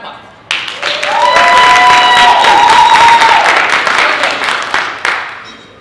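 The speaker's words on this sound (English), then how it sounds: "Round of applause." Audience applause at a steampunk convention's tea dueling finals, a dense burst of clapping rising sharply and holding steady for several seconds before tapering off, with a few voices and a whistle-like tone over it.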